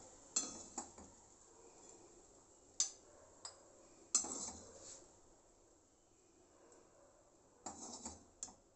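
Rice served from a cooking pan into a bowl after making pulao, with a few clear clinks of a spoon against metal and dishware spread over quiet stretches, plus a small cluster of scraping knocks near the end.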